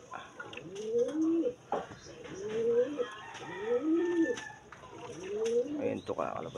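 A pigeon coos close by in a repeating rhythm, four or five soft throaty phrases, while a person talks in the background.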